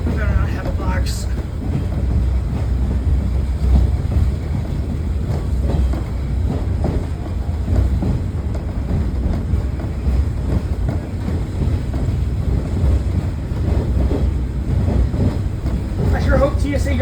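Riding inside the caboose behind the Shay locomotive at the Illinois Railway Museum, a continuous loud rumble and rattle of the moving car fills the space while people talk over it.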